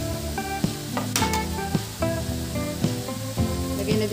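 Mixed vegetables with broccoli and snow peas stir-frying in a hot pan, a loud steady sizzle broken by repeated clanks and scrapes of a utensil tossing them, close up with no talking.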